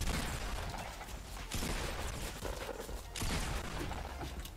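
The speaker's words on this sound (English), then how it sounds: "They're shooting in front." Gunfire in the Fortnite video game, a steady rattle of rapid shots and bursts with a few louder cracks, continuous and fairly close.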